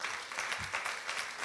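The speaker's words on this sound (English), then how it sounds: "Let's give a round of applause to Prudential." Audience applause at a workplace nutrition summit in Uganda, a brief steady patter of many hands clapping at moderate distance, with no talk over it.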